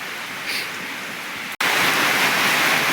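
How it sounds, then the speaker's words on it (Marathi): Steady, dense hiss of heavy rain falling on a cattle shed, briefly cut off for a moment before returning louder and fuller. "आता भरपूर पाऊस चालू आहे"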